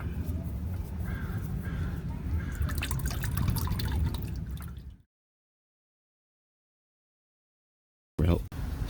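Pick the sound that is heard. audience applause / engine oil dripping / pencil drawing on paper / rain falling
engine oil dripping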